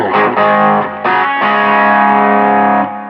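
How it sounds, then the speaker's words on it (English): Electric guitar through a Quilter SuperBlock UK amp and a low-gain Tube Screamer-style overdrive pedal, with a warm, gritty crunch, struck in a few separate hits and then left ringing out before fading. "And then we throw on some Overdrive, just Clarksdale. It's kind of like a tube screamer."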